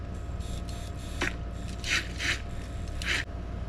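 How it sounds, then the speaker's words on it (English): A spoon stirs coffee and a whisk works it to a froth, with a few short scraping, rattling swishes over a steady mechanical hum, close up and with nobody talking. "I'm going to stir this a little with the spoon first and whisk a little."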